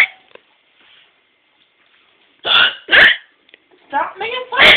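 Human hiccups, several sharp bursts, the first two spaced about half a second apart after a quiet stretch, then a cluster of rapid ones close to the microphone.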